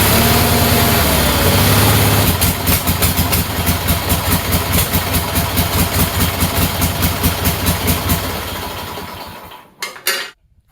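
A Sears lawn tractor's Onan engine cranks, catches and settles into a loud, close, pulsing idle with a rhythmic knocking beat, then cuts off near the end with a couple of sharp mechanical clunks.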